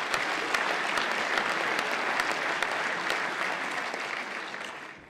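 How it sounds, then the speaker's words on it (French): Audience at a mayor's New Year wishes ceremony in Saint-Étienne clapping in loud, dense, sustained applause that carries evenly for several seconds, then fades slightly at the end. "On peut les applaudir."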